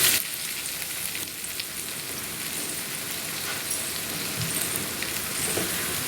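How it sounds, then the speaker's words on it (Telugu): An egg fries in hot oil for egg fried rice, giving a constant, dense, close crackling sizzle like rain for the whole stretch, with no voices. "ఎగ్ అంతా ఈ విధంగా ఆయిల్లో ఉడుకుతుంది."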